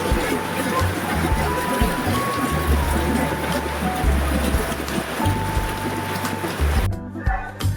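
Heavy rain pours down in a steady, loud, unbroken wash throughout during a rainy-season outing for lugaw, with a faint voice briefly in the background.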